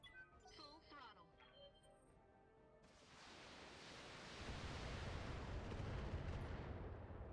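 Weapons fire aimed at a Marauder mech in the BattleTech game, heard as a faint rumbling barrage of blasts that swells into a dense, continuous roar, while a voice talks over it.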